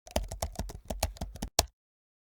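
Typing on a computer keyboard: a close, quiet run of about a dozen distinct keystrokes in a quick, uneven rhythm, then a final tap and silence.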